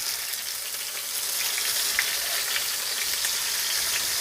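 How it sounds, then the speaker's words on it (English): Lemon-pepper-seasoned shrimp sizzle in a hot pot, a loud dense crackling fry that swells after the first second and holds steady, with no voices. "So we're just putting our shrimp over here to go on fry"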